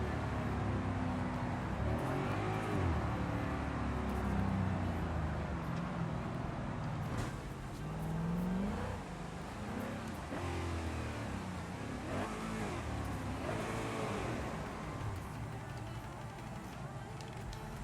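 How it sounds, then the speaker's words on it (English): Car engine in a driving video game rising and falling in continuous revs and gear changes across the whole stretch, loud and steady, with a voice talking over it at times. "Listen to that beautiful vroom vroom of the car."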